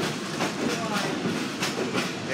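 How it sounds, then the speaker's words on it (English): Wilmington Western Railroad diesel train rolling along an open-air ride, with a steady wheel-and-rail rumble and a few rhythmic clacks, heard up close and continuous throughout. "Wouldn't you like this train running through your yard 3 times a day?"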